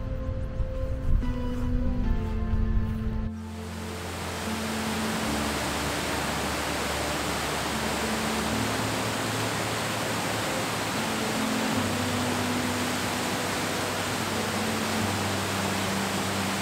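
A waterfall on the Rallarvegen route in Norway roars as a steady, even wash of broadband rushing water. A few seconds of other low tones come first, then the falls continue alone, close and dense.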